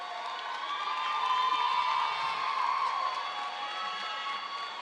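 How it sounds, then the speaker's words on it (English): A high school graduation crowd cheers and shouts in a continuous, bright roar of whoops and raised voices, with some clapping underneath, steady and loud throughout. "Let's give them another round of applause."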